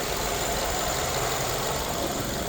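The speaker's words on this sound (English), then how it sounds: "Engine bay, as you can see, all running nice and smoothly in there." A 2020 Nissan X-Trail ST engine idles smoothly, heard up close as a steady, even hum with a faint high whine and no voices.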